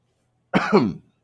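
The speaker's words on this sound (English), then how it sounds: "I have to edit all that coughing out." A single short, close cough, slightly rough, with silence around it.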